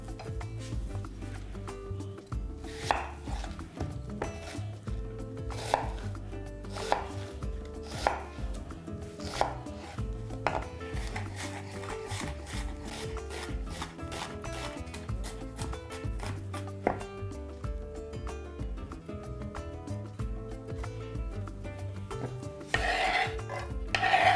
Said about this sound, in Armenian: 1 գլուխ սոխը կկտրատեմ մանր